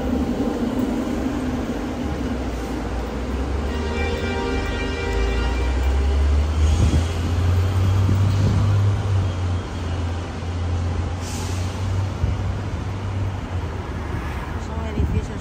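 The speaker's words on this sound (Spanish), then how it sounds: "el autobús número 4 ahí va." A long number 4 city bus passes on Broadway in downtown Los Angeles, its deep engine rumble and rising whine swelling close by midway through, over steady street traffic noise with faint voices.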